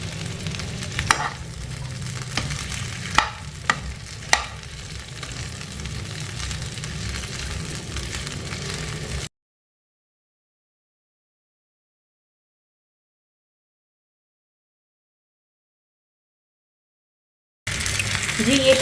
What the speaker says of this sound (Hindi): जी ये कबाब जो है वो हमारे फ्राई हो गए हैं।